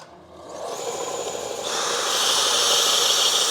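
A 1/16 red tungsten electrode for TIG welding is ground on a spinning wheel, a thin steady hiss rising to a louder, brighter grinding whine that holds to the end, close and alone.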